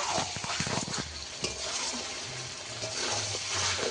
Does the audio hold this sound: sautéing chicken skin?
yes